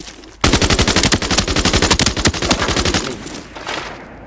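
A T03 gun in the game Arena Breakout Infinite fires a loud, close sustained automatic burst of rapid evenly spaced shots for about two and a half seconds, then trails off into fainter echoing shots.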